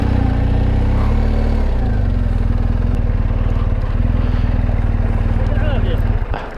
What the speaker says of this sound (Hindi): चलो हम जो है बाइक को आगे से घुमा लेते हैं।